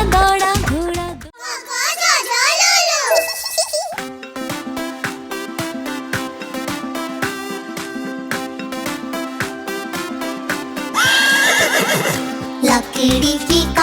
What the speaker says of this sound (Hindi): दौड़ा दौड़ा दौड़ा घोड़ा दुम उठा के दौड़ा